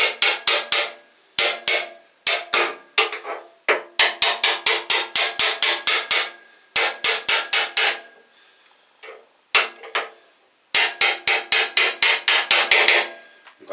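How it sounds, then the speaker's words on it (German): Repeated sharp hammer strikes ring on a metal part during swingarm assembly of a 1974 Simson Star moped, coming in quick bursts of several blows, each separated by short pauses, close and loud. "Könnt ihr auch ein bisschen mit Hammer noch helfen?"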